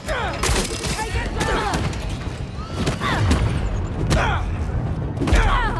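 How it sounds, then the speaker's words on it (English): Fireworks bursting in the fireworks yard of Marvel's Spider-Man 2, a string of sharp booms and crackles spread across a busy game mix, with character voices talking over the blasts. "While Spider-Man's distracted by the fireworks yard"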